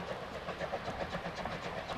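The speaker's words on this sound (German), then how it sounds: "der Zug läuft in Oberwiesenthal im Schmalspurbahnhof ein" Narrow-gauge steam train running into Oberwiesenthal station in Saxony, heard as a steady rolling rumble with repeated rhythmic clatter of wheels and a faint hiss, fairly distant and continuous throughout.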